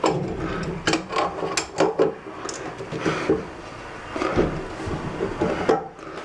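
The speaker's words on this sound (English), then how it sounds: "I'm just going to tighten as much as I can with my hand and take the wrench and get it just a little bit extra." Wrench tightening a hose fitting on a Luxe Bidet Neo 180, giving close, uneven metallic clicks, scrapes and creaks in short bursts over several seconds.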